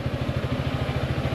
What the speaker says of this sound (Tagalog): pinandar ko yung aking motor na